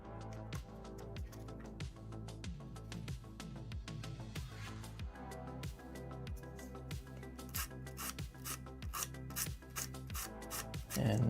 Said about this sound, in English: I want to get some of this sanding done first.